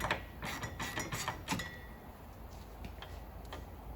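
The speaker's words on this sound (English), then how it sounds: "I'm just going to start these top bolts, maybe 2 or 3 turns." Top bolts on a car's rear suspension are turned during a chassis restoration, giving quiet metallic ratchet clicks and clinks in quick irregular bursts, faint and fairly close, with no talking.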